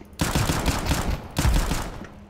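Gunfire in Counter-Strike 2, two close, loud rapid automatic bursts, each a quick stuttering string of shots, separated by a brief gap.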